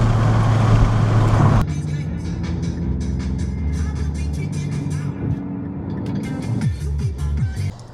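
A Mini Cooper S engine pulls while driving, a steady in-car drone with a gear change and revs rising and falling, fairly loud and close, with no talk over it.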